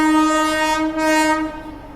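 Secunderabad Rajdhani Express train sounding its loud, sustained horn close by as it passes, a single steady blast that briefly dips and then fades slightly.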